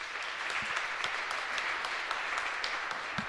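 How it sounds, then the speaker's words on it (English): Steady audience applause at an API technology conference, a moderately quiet wash of many hands clapping continuously for a few seconds, with occasional sharper individual claps standing out. "So let's applaud them"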